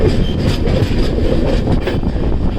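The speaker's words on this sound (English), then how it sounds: "It's a big train. It's about 22 coaches." A long passenger train of about 22 coaches on the route from Kerala to Mumbai rolls along the rails, heard from aboard as a loud, continuous close rumble with rhythmic clickety-clack of the wheels.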